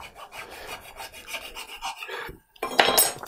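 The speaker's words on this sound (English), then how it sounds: "I'm gonna come across here with a file. I'm just gonna hold it flat to the surface and rub it on here." A metal file is held flat and rubbed across a wooden jointer bed, giving a steady run of raspy scraping strokes up close. A short pause follows, then a louder, brighter burst of rasping.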